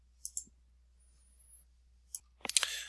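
A few crisp computer mouse clicks, isolated and close in a quiet room, two quick ones at the start, then a louder cluster of clicks and clatter near the end.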